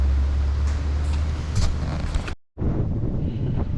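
Strong wind at King Island Airport on a windswept island buffets the microphone, making a steady heavy rumble with gusty hiss. The roar drops out briefly for a moment, then returns at full strength.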